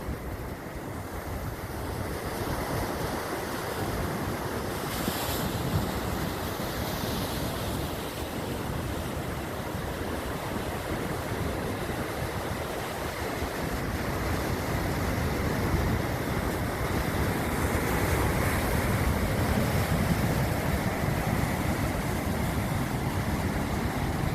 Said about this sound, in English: You can feel it, the power of these waves smashing the rocks.